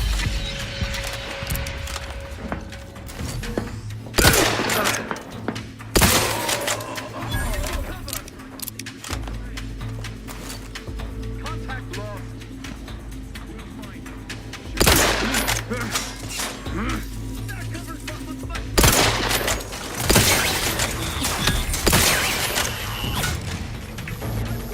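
Gunfire in The Outer Worlds 2 comes as heavy repeated bursts of shots and booms, spread through a steady rumble of combat, with a few especially loud volleys and voices talking over parts of it.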